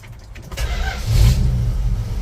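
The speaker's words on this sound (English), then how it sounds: "you'll love the way this truck starts." A 1956 Ford F100 pickup with a 331 Hemi V8 cranks briefly and fires, settling into a loud, steady low rumble up close, with no talk over it.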